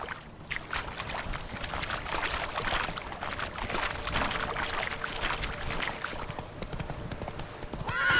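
A horse in the video game The Witcher 3 gallops with steady, continuous hoofbeats, close and moderately loud, with no talking over it.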